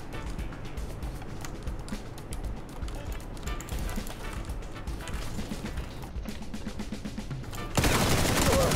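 Gunfire in a shooter video game: dense, continuous automatic bursts with crashing impacts, steady and fairly loud throughout, swelling into a louder burst near the end.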